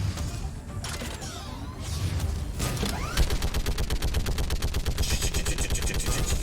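Mounted turret gun in Mass Effect 3 firing a rapid, loud sustained burst after mechanical clanks and creaks, the shots packed close together in a steady rattling rhythm.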